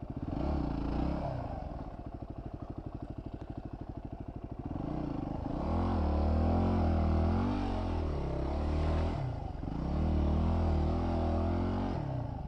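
A stuck vehicle's engine roars and strains continuously as its tire spins in place in deep ground while turning around, the pitch rising and falling with each surge of throttle, close and loud.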